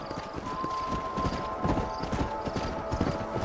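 Horses' hooves clip-clopping steadily in the Western video game Red Dead Redemption, a continuous mid-level trotting rhythm over background ambience.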